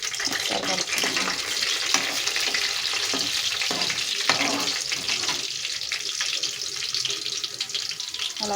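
Chopped onions and curry leaves frying in hot oil for a broad bean and tomato curry, a continuous close sizzle with scattered crackles and stirring scrapes throughout, no talking.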